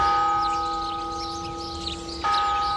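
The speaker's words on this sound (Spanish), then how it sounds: "Las campanadas de esta torre son tañidos civiles y seculares" A municipal church tower bell in Miranda del Castañar, Spain, rings with a sustained metallic hum, then a fresh strike near the end renews the ringing tone.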